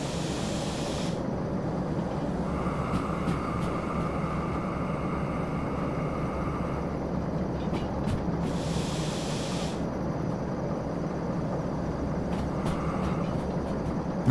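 A freight train in the Derail Valley simulator rolls downhill under repeated brake application, giving a steady broad rumble with intermittent hissing bursts of air release and a faint tonal squeal.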